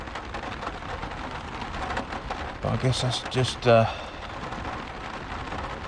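Thunder rumbles in a few heavy bursts over a steady hiss of rain outside a parked van, with a person talking throughout.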